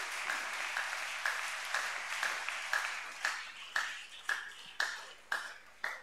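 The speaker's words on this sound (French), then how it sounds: "Acclamons très fort pour le Seigneur" A church congregation applauds in a fairly even, rhythmic pattern of claps with a ringing metallic ping on each beat, heard from a moderate distance in a reverberant hall.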